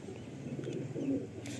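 A Madrasi pigeon coos in a low, soft murmur, with one fuller coo near the end over quiet background noise.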